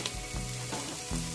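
Carrots go into a hot pan for soup and sizzle steadily, a close, continuous frying hiss with light stirring scrapes and no talking.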